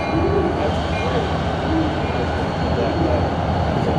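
An uncoupled railcar rolls away through a Denver rail yard, giving a steady, loud rumbling roar of wheels on track that holds evenly throughout.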